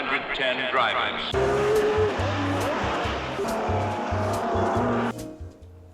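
Race cars roaring around the Le Mans circuit during the 24-hour endurance race, engines loud and sustained with rising and falling whines as cars pass, brief tire squeal, and a narrator talking over the noise throughout.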